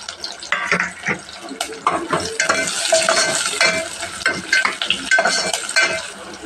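Curry leaves frying with chopped onions in a pan for pepper rasam, a dense, busy crackling sizzle with stirring clatter throughout, close up and loud.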